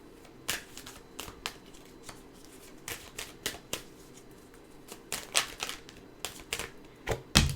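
Tarot cards being shuffled and drawn make a series of quiet, crisp flicks and slaps, irregularly spaced and close, with soft rustling between them.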